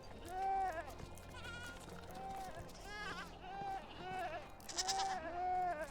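Goats and sheep, kids and lambs among them, bleat in Medieval Dynasty with repeated nasal calls, several animals overlapping over a low ambient farm hum.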